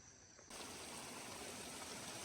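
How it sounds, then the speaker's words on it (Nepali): Water pours steadily from a tank at a village homestay in Sirubari, a continuous splashing rush that starts abruptly and continues without a break. "यहाँ यस्तो ट्याङ्की रहेछ, पानी पनि झरिराखेको रहेछ।"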